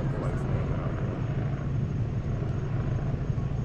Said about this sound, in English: Watch the helicopter. You see the helicopter up there? He's gonna land right here.